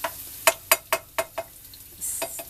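Vegan black olive caviar mixture stirred in a hot pan, six or seven distinct scraping strokes in an even rhythm over a low sizzle, ending in a brief brighter burst of frying hiss.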